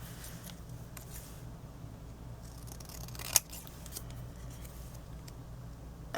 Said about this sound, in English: So I'm going to cut a banner piece